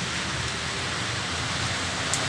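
Steady, close hiss of rain falling without pause, dense and even throughout, with no voices.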